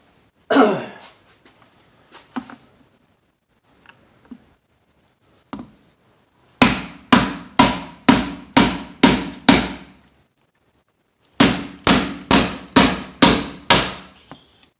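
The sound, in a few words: hammering on a tire valve stem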